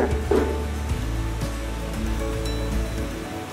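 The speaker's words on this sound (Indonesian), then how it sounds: "videonya agak berisik karena lagi hujan" Heavy rain pours outside during a home pomade-making session, a steady broadband hiss with low rumble that runs continuously and fairly loud throughout.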